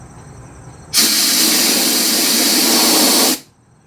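Compressed air blasts steadily through a Honda GCV 160–190 manual-choke lawnmower carburetor in one loud, continuous hiss lasting about two and a half seconds, starting and stopping abruptly against a quiet workshop background.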